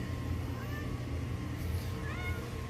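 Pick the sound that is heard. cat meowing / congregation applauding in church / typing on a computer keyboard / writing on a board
cat meowing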